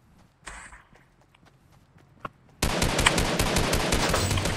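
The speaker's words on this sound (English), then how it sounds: "Somebody's shooting. Who's shooting?" Video game gunfire erupts midway: after a quiet stretch of faint taps and clicks, a loud, dense, continuous burst of rapid automatic fire takes over and runs to the end, close and harsh.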